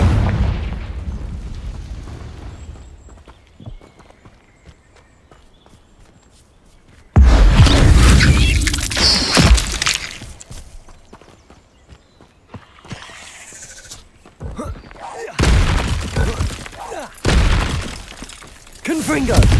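Repeated Confringo fire spell blasts from Hogwarts Legacy, with loud bursts and shattering crashes separated by quieter stretches, alongside other game sound effects and a voice talking.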